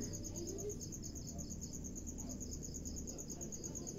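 Steady, continuous cricket-like chirping of insects at night under a bright moon, a faint even drone with a rhythmic high trill throughout and no talking.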